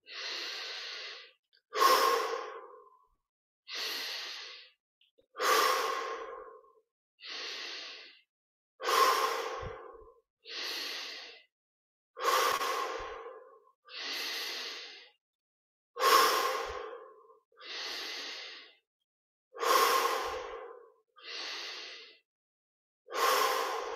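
Slow, deep breathing during a guided meditation: about a dozen evenly spaced, audible inhales and exhales, close and soft, separated by brief silences, with no talking.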